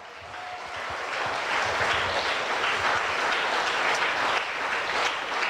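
A church congregation claps loudly during a worship service. The dense, sustained applause rises quickly and holds steady for several seconds.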